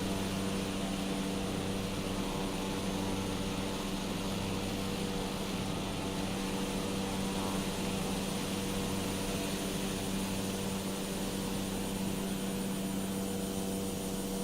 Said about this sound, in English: we're flying the Cessna 208B